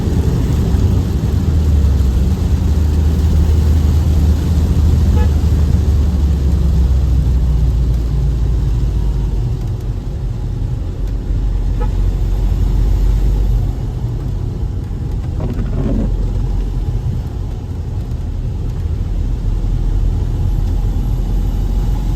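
A Mahindra XUV500 W10 SUV driving and accelerating through the gears, heard from inside as a loud, continuous low engine and road rumble that shifts slightly in pitch as it pulls, with no talking.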